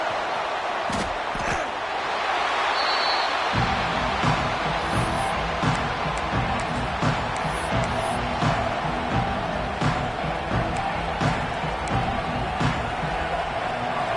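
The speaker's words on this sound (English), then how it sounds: "This crowd ready to make its presence known" A large stadium crowd at an LSU college football game keeps up a steady roar that swells and cheers throughout, with a commentator's voice running over the noise.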